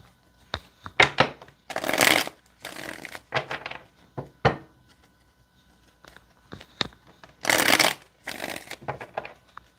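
Tarot cards riffle-shuffled in several quick bursts of papery flutter, close and fairly loud, separated by softer taps and brief pauses as the deck is squared.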